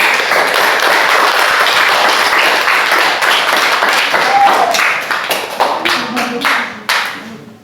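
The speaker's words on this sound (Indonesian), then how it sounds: "Tepuk tangan untuk kelompok 3." A classroom of students applauds a presenting group, dense clapping at full strength for about five seconds before thinning into scattered, fading claps.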